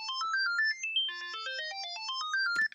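A bright synth plays a stepping chord progression, arpeggiated tones moving up and down in quick regular notes, clean and alone.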